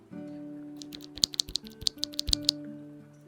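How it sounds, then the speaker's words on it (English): Typing on quiet mechanical keyboard switches: a short burst of about a dozen crisp, close key clicks in an uneven rhythm over a low steady hum, with no talk. "If we want to hear them in comparison to my current ones I had in"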